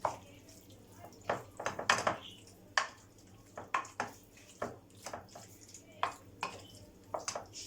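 A spoon stirring salt into a couple of spoonfuls of liquid for potatoes, quick clinks and taps against a bowl in an uneven rhythm, close and fairly quiet.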